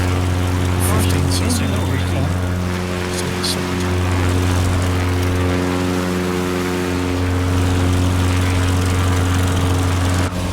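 Aviat Husky single propeller engine droning steadily in flight in Microsoft Flight Simulator, a loud, constant buzzing hum throughout with faint clicks in the background.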